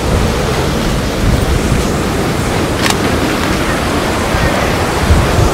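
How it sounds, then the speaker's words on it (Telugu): Surf and sea wind at Arambol Beach in Goa make a loud, continuous roar of rushing noise with no breaks, heard up close and without any voices. "అర్చన బీచ్కి వచ్చాము."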